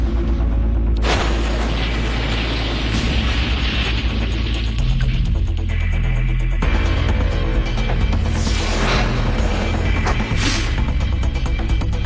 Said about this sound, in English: The explosion ripped through the metal, completely destroying the interior and outer frame.